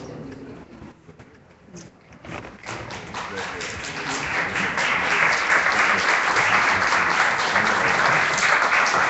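Visitors in a city board of aldermen chamber break into applause that starts sparse and swells into steady, dense clapping, fairly close, with some voices mixed in.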